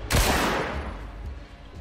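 A single loud gunshot cracks at the start with a sharp transient, then a long reverberant tail decays over more than a second, used as a dramatic effect in a horror story.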